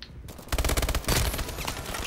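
Rapid automatic gunfire in the futuristic shooter Call of Duty Advanced Warfare: a quiet moment, then a loud burst of closely spaced shots, a brief pause and a second sustained burst that tapers off.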